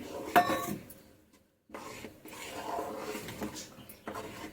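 White flour being stirred into boiling water in a cooking pot, with close scraping and rubbing of the spoon against the metal. A brief silent pause is followed by steady, continuous stirring.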